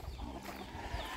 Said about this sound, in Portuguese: Mais umas galinhas aqui.